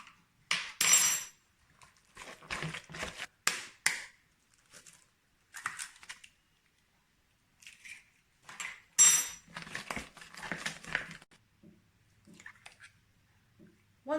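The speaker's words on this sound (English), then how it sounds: "Make sure you only add 1 egg at a time and mix this in" Cake batter for a Victoria sponge, with egg mixed in one at a time, is stirred and scraped in a bowl. It comes through as irregular bursts of clinking, tapping and sloppy scraping with short quiet gaps.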